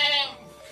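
Jawa Randu goat in a farm pen giving a single short, nasal bleat up close that fades quickly.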